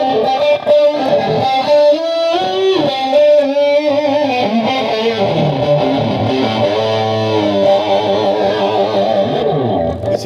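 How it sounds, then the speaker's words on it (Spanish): An electric guitar runs through amplifier distortion, playing loud, sustained, heavily saturated lines continuously for the whole stretch with no talking. "Siempre usás la distorsión del equipo"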